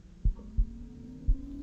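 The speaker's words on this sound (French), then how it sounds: "Le battement de cœur, ça va?" A heartbeat from a Minecraft horror map thumps low and dull, three or four evenly spaced beats over a faint steady hum, with no voices.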